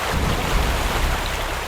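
A waterfall, a loud, dense, steady roar of rushing water, close and continuous, with no voices over it.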